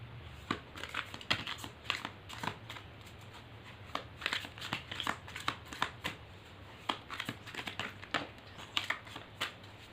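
Tarot cards are shuffled and drawn by hand, giving irregular soft riffling and snapping bursts close by at a low level, with no voice over them.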